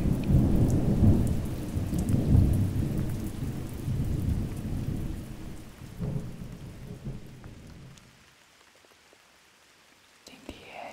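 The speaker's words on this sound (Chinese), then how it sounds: "今天下起了特大的暴雨" Heavy rainstorm with rolling thunder, a dense steady roar of rain on surfaces that stays loud for most of the stretch, then drops away to near quiet before a brief final rumble.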